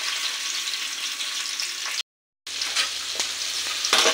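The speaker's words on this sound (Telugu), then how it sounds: "ఇందులోనే మళ్ళీ ఆయిల్ వేసుకుంటున్నాను. ఇప్పుడు పొడవుగా కట్ చేసుకున్న ఆనియన్స్," Sliced onions frying in oil in a pan for egg fried rice, a steady close sizzle with stirring scrapes, broken by a brief silent gap partway through.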